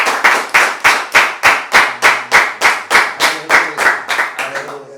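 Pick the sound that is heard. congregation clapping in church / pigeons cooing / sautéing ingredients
congregation clapping in church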